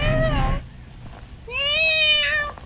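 A house cat meows twice, a short cry followed by a longer rising and falling meow, loud and close, while the room is otherwise quiet.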